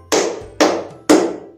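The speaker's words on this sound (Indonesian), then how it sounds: "maka tepuk tangan 3 kali" A classroom group claps hands three times in unison, three sharp, loud, evenly spaced claps, each with a short decaying tail, with no talking over them.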